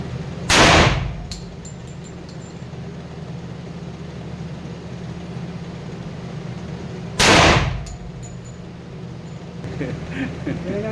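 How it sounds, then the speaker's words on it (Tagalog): Two sharp, loud gunshots ring out about six and a half seconds apart during precision shooting practice, each with a brief decaying tail over steady outdoor background noise. "Okay, firing ha. Say firing if you're ready."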